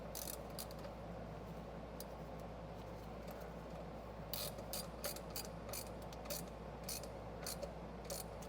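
A hand ratchet clicks in quick bursts while a drain plug on a Porsche is tightened, the sharp pawl ticks coming in irregular runs at close range over a quiet garage background.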